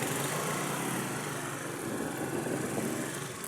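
A motorcycle engine drones steadily and fairly close for a few seconds, a continuous buzzing hum with no break.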